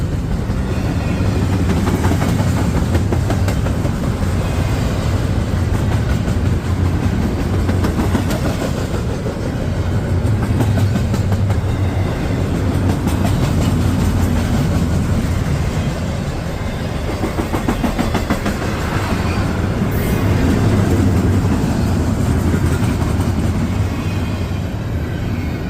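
A long freight train with a DPU locomotive rolls past close by, a continuous heavy rumble with rhythmic wheel clatter and steady roar that holds for the whole stretch.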